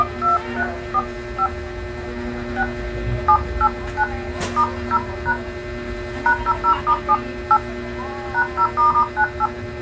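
DTMF tones from the keypad of an Infinix Smart 5 phone during a repair test, a series of short beeps in quick irregular clusters over a steady background hum.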